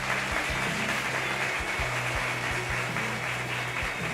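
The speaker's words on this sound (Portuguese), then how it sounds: "aplaudam aqui a quem honra a honra" A church congregation at a Baptist service applauds a reverend as he comes forward, a continuous crowd clapping with a low hum underneath.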